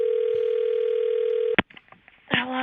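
A steady dial tone over a phone line runs for about a second and a half, then breaks off into a few clicks and short tones as a cell phone number is dialed, ending in a brighter burst of tones.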